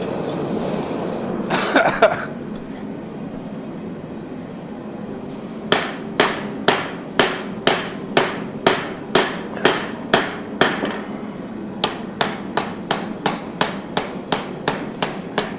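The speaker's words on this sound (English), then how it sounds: "use your secret hammering technique" A blacksmith hammers metal at a forge in rapid, even strikes: a long run of ringing blows, a short pause, then a second run, loud and close, after some earlier rustling.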